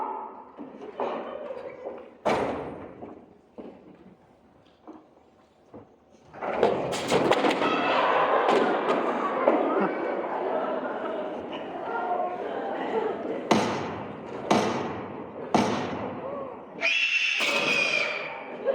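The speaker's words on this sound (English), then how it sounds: "Gunshots in the library." Staged gunshot sound effects ring out during a high school murder-mystery play in a library scene: several sharp, loud bangs, some spaced apart and others in quick succession, mixed with actors' dialogue and shouting.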